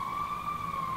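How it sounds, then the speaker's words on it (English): A police siren from a video playing in the room, heard as a steady, loud, sustained wail holding one tone throughout, with faint truck-like rumble and no talking. "You run, you hear sirens."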